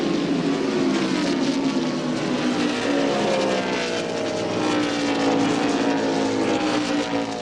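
NASCAR Winston Cup stock cars lapping California Speedway during the 1999 California 500, a loud continuous engine roar with rising and falling pitch as cars pass, steady throughout with no break.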